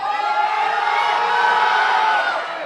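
At a powerlifting competition, a large crowd cheers and shouts steadily and loudly after a successful squat, a dense wash of voices that holds for nearly three seconds before easing slightly.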